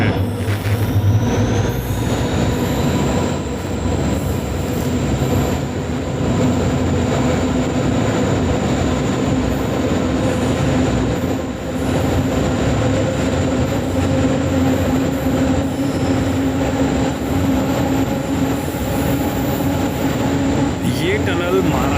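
Mangala Lakshadweep Express rushing through a Konkan Railway tunnel near Ratnagiri, Maharashtra, a loud, continuous enclosed roar of wheels and carriages with a steady high whine running through the whole stretch.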